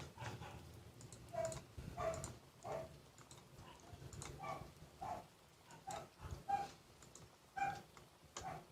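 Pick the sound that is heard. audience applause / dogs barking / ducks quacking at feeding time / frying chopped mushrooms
dogs barking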